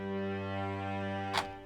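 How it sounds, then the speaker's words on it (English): A sustained strings patch from a Labs software instrument holds a long, steady chord, quiet and even, with a soft brief swell near the end, alone without any talk. "Alright, so I went and grabbed this strings long sound from Labs,"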